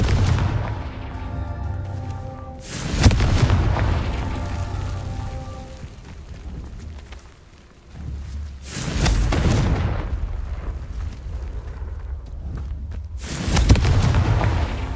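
Three loud, booming blasts of the Confringo explosive spell in the video game Hogwarts Legacy, spaced several seconds apart, each a sharp burst that rumbles and decays over a steady low background hum.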